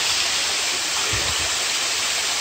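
Steady, close waterfall on a hiking trail in Hawaii, a dense, unbroken rush of falling water that stays loud throughout.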